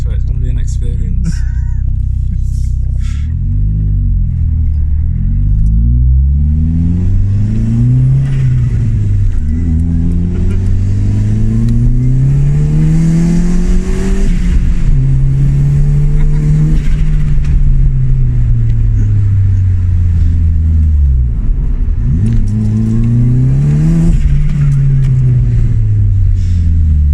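A 270hp Vauxhall Corsa B with a B204 engine accelerates hard through repeated rising and falling revs, loud and close from inside the car, with voices talking over the engine.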